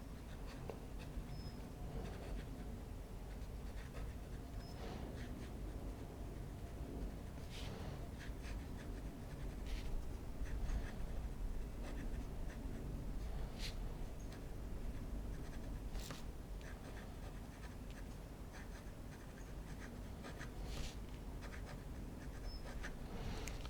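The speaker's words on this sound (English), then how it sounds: "there will definitely be that feedback that you experience when writing" Pilot Custom 742 fountain pen with a fine nib writing on paper, a faint, continuous scratchy feedback with small irregular strokes, heard close and alone.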